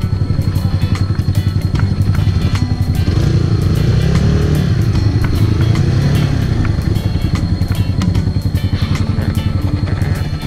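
A Yamaha MT15 motorcycle engine runs close and loud as the bike rides through a sharp curve, holding a steady, throbbing drone with slight rises and dips in pitch and no talk.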